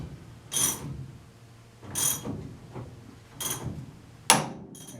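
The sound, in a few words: cranking ball joint tie rod end puller, Austin Healey Sprite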